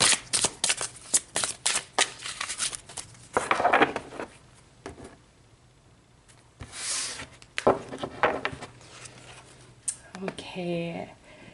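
Tarot cards shuffled by hand in bursts of crisp riffling and sliding, with short pauses between; a person talks near the end.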